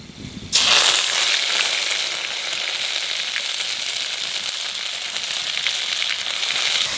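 Cloves, cinnamon, cardamom and bay leaf hit hot oil with onion paste and yogurt for a fish curry, bursting into a loud, steady sizzle that starts abruptly and keeps crackling throughout without talk.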